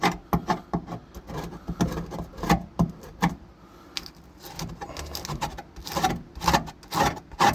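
A screwdriver rubs and scrapes around the edges of a T56 Magnum transmission tunnel, giving irregular close scratching strokes and small knocks in uneven bursts, with no talking.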